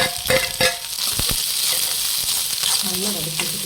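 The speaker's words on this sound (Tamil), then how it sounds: "நல்லா வதக்கி வச்சுக்கலாம்" Onions, green chillies, curry leaves, mustard seeds and fennel sauté in a hot pan with a loud, continuous sizzle. A few spoon clinks are heard early on, and a brief voice comes in toward the end.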